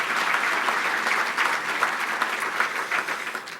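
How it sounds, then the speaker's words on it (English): Audience applauding sponsors at a 2015 State of the County event, a steady, dense round of clapping from a large room, sustained throughout without any voices. "So please join me in a round of applause for our sponsors."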